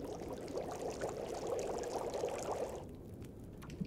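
Coffee is poured in the survival video game The Long Dark, a steady liquid stream running for nearly three seconds before cutting off, followed by a few faint clinks.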